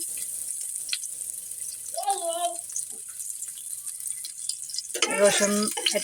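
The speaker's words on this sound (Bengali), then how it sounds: "রসুন কুচি দিয়ে দিলাম।" Chopped garlic fries in a small amount of oil on a stove with a soft, steady sizzling hiss. A voice speaks briefly over it twice.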